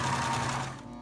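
A sewing machine stitches in a short steady burst with a rapid mechanical whir, close and fairly quiet, easing off near the end; part of a beginner sewing practice exercise.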